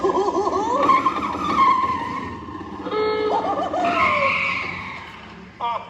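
A cartoonish taxi screeches up on squealing, skidding tires as a Muppet show sound effect, wavering tire squeals lasting several seconds with character voices talking over them.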